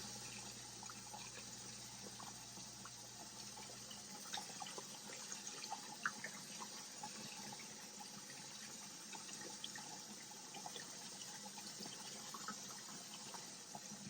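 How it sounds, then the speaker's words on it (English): Water runs steadily from a sink tap into a porcelain basin as bleach water is swished with a rag, a continuous broadband rush with small splashes and clinks, close and alone without talk. "And I'm going to turn the water on."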